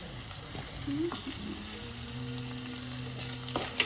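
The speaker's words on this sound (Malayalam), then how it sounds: "പച്ചമുളകും കറിവേപ്പിലയും കൂടി ഇട്ട് കൊടുക്കാം." Green chillies and curry leaves fry in hot oil in a pan, with a steady close sizzle, some crackling, and faint stirring scrapes.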